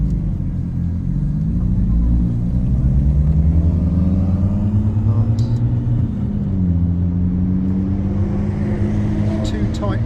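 McLaren Artura pulling away under light throttle on the Silverstone circuit, a steady loud engine drone rising in pitch then settling, heard from inside the car with speech over it.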